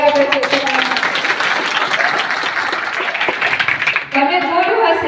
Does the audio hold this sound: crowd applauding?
yes